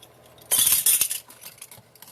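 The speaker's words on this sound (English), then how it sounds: "we're going to mix all that together" Spoon clinking against a bowl while white sugar and vanilla are mixed together for Christmas sugar cookies, a brief burst of bright scraping and clinks in the middle, then softer taps.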